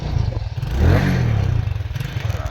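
A motorcycle engine idles near a railway station on the Nandurbar–Dhule route with a low, steady putter, rising briefly in pitch as it revs, then settling back.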